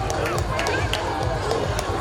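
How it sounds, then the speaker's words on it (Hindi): A crowd gives a performer a burst of dense, steady applause at a Dussehra celebration after a dance in the Ravana's court scene, with crowd murmur underneath throughout. "एक बार जोरदार तालियां इनके लिए।"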